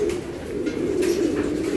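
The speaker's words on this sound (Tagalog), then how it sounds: "Ito ibon ni brother Benjo Mateo" A racing pigeon coos in a loft on a rainy day, a steady low murmuring call that continues without pause at moderate loudness, with no talk over it.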